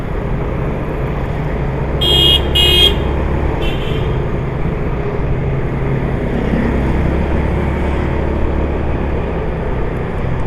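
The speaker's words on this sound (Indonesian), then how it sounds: "Ada teman klakson ya." A car horn gives a few short honks in passing on a city road in Manado, Indonesia, heard over the steady low rumble of a vehicle on the road.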